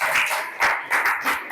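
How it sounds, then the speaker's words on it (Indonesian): Classroom audience applause for a student group during a teaching performance session: loud, dense clapping that surges in several quick waves, close and with no talk over it. "kasih tepuk tangan untuk kelompok 1 ya"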